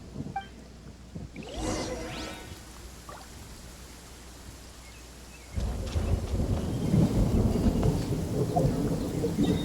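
Rolling thunder and steady rain in the Genshin Impact video game, with a crack of thunder near the start, a quieter stretch, then heavier rainfall swelling up for the rest, without voices.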